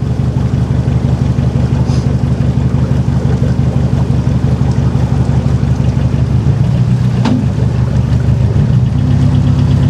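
A narrowboat's engine runs steadily on the Stratford Canal while controlled by a Morse lever, a loud, close, continuous low diesel throb with a slight change in pitch as the throttle shifts.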